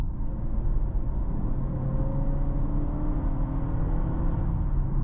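A Honda ZR-V with the e:HEV hybrid system and e-CVT transmission accelerates smoothly toward 60, giving a steady, close, low drivetrain hum that holds even for five seconds with no jolts and no voices.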